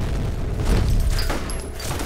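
A grenade explodes in the shooter video game F.E.A.R., a loud, deep, rumbling boom that fills the whole stretch with dense low-end roar and crackle, with faint high electronic tones near the end.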